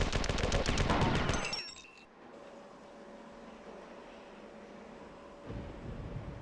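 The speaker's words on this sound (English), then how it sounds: "it's a good thing they're so focused on shooting each other" Enemies in the Marathon 2: Durandal shooter trade gunfire in a loud, rapid burst of crackling shots that cuts off abruptly, leaving a quiet hum with a faint tone before a softer rumble returns.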